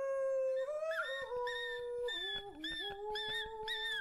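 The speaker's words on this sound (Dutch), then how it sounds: "Elke keer als hij zijn intro doet, flipt die hond helemaal." A dog howls along with a vlog intro, its long, wavering, sung-sounding howls rising and falling close up for several seconds with no talking.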